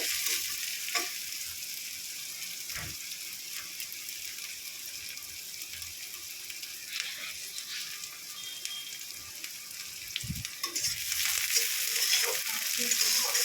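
Onion and garlic fry until reddish-brown in a pan, a steady bright sizzle of oil punctuated by occasional spatula knocks and scrapes, growing a little louder toward the end, with no one talking.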